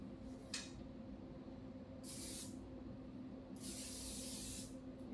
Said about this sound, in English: we're just gonna put them straight on the pans and spray it with a butter spray.